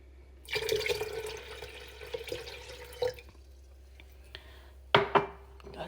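Water is poured into a pot for morning coffee, a steady splashing rush for about two and a half seconds, followed by quieter clinks, drips and a pair of sharper knocks near the end.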